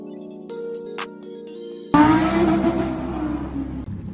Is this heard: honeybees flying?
no